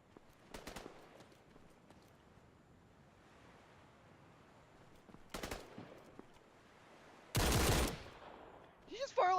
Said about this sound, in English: Did you just fire like 4 shots?